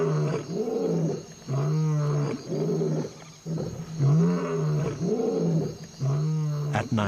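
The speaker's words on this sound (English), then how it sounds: "a lion's roar" A lion roaring at dawn in the African wild, a series of deep, rhythmic grunting roars repeated about every second, loud and close, carrying strongly with no other sounds over it.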